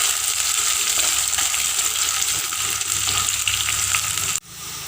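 Ginger, green chilli and curry leaves fry loudly in a pan, a close, dense and steady sizzle that holds for several seconds before cutting off sharply near the end.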